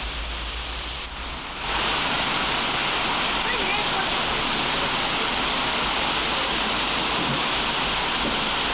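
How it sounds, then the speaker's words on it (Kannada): Heavy early-morning downpour in Kalaburagi starts with a quiet rumble, then swells after a second or two into a loud, dense, unbroken roar of rain that holds steady to the end. "ಕಲಬುರಗಿಯಲ್ಲಿ ಬೆಳಗ್ಗೆ 5 ಗಂಟೆಯಿಂದ ರಣ ಮಳೆ ಸುರಿದಿದೆ"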